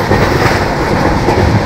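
Dehradun Jan Shatabdi Express rolling along, heard from inside a chair car: loud steady rumble with rhythmic clickety-clack of wheels over rail joints, continuous and close throughout.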